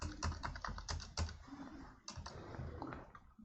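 Rapid typing on a computer keyboard while entering a PIN code into an online income-certificate application form, a close, steady patter of key clicks with a few louder strokes, no talking.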